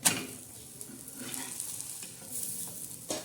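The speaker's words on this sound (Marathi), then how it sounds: "आता असा मस्त खमंग असा भाजून घ्यायचा" A methi paratha roasts crisp on a hot pan, giving a close, continuous sizzle and hiss with light shifting and scraping throughout, no voices.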